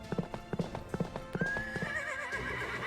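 Horse hooves in the Fate/Grand Order game, a steady close clip-clop of several even beats, then a whinny rising over the soundtrack at the end.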